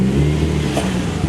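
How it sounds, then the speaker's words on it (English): A turbocharged Infiniti G35 coupe engine revs in a loud, close, steady roar, with a brief whoosh near the middle and no talking. "Y'all hear that turbo?"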